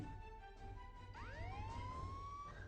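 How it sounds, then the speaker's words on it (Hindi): A faint police siren played from an old phone wails with rising and falling sweeps over a low background hum, thin and slightly tinny. "अपने एक पुराने फोन से पुलिस के सायरन की आवाज निकाली"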